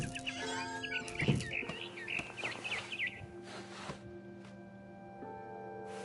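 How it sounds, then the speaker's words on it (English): A barn swallow chirps outside a window in the video game What Remains of Edith Finch, quick bright tweets and trills over a faint steady background hum, fairly quiet and close. "Then I heard chirping outside my window. It was a barn swallow going back to her nest."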